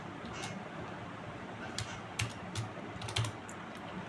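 Keys tapping on a computer keyboard while JavaScript code is typed, a sparse run of light, irregular clicks over low room hiss with no talking.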